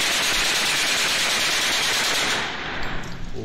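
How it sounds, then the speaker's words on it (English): Loud rapid machine-gun fire from a video playing on a screen, a dense continuous burst of shots that drops off at the end. "Of course, it is gunfire"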